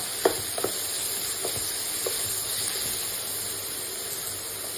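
Corn kernels fry with salt in a pan, making a steady, close sizzling hiss throughout, broken by a few light taps early on.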